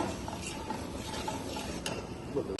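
Ingredients being stirred into oil in a pan, a close, quiet run of scraping and light sizzling with small clinks of a utensil against the pan, with no talk.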